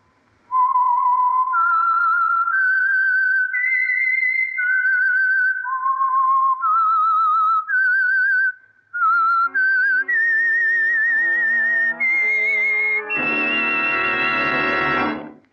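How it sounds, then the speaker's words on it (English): A melodic whistled theme identifies the Signal Oil radio program The Whistler, a clear, solo, near whistle rising and falling through a tune for about twelve seconds before an orchestral chord swells in. "the signal to listen for is this whistle that identifies the Signal Oil program"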